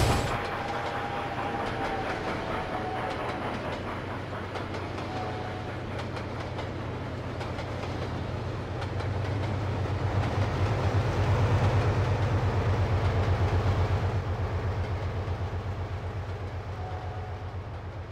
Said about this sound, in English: The next train does not stop at this platform.